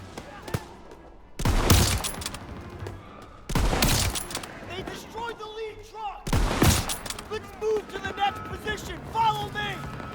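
Weapon fire in the World War II shooter game Call of Duty: WWII, with three loud, sharp bursts of gunshots separated by quieter stretches as someone talks over the gameplay.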